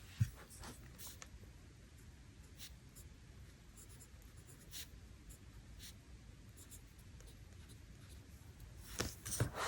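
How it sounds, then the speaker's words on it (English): A pen writing out a Bible verse by hand in a planner, a steady soft scratching of nib on paper that runs throughout with a few light taps and page rustles, close up and quiet with no talking. "I'm going to write that down and then I will be back to finish off the sidebar."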